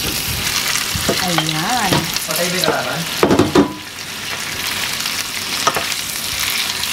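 Roast gammon and roast chicken drop into a hot pot and sizzle loudly, with stirring and clattering throughout and a short spoken word partway through.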